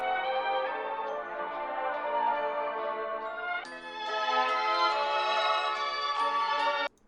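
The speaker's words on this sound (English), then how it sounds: "you guys hear that transition from the lower pitch sample to the higher pitch sample" A pitched-down sample opens an aesthetic trap beat, then jumps to a higher pitch partway through. The sustained, shimmering chordal tone plays alone at moderate level and cuts off abruptly at the end.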